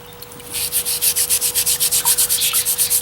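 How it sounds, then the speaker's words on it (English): A loose scale is scrubbed lightly off an axe head, making quick, steady back-and-forth rubbing strokes, close and fairly loud, about eight strokes a second with no talking. "we're just going to scrub it real light, scrub off any of the scale that wants to just kind of fall off"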